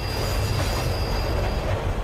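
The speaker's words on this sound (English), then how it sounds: "As the train continues to its destination" A train running on its rails gives off a loud, steady rolling rumble with a thin, sustained wheel squeal over it, and no voices.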